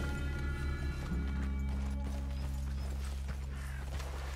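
Horses in the Red Dead Redemption 2 video game, with steady clip-clop hooves and faint creaks over a constant low rumble of game ambience. The hooves sound close and keep a continuous rhythm throughout.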